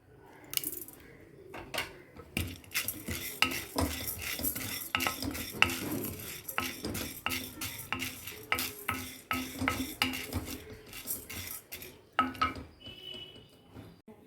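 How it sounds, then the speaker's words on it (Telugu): Urad dal roasting in a pan is stirred with a utensil, giving a steady run of close scraping and clinking strokes against the metal over a soft background sizzle, with no talking. "ఇవి కొంచెం వేగాక మినపప్పు కూడా వేసేసేయండి"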